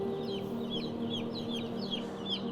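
Chickens on a UK chicken farm cluck and call repeatedly in a steady, moderately loud chorus over a constant low hum, with no talking.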